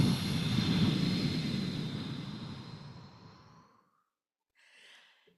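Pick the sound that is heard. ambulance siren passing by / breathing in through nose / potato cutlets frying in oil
breathing in through nose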